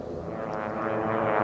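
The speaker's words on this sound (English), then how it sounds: "He's got that T-6 going as fast as it can with Greg McNeely right there with him." A T-6 airplane races at full speed in a national championship air race, its engine and propeller giving a loud, steady drone that builds slightly over the short stretch, with no talk.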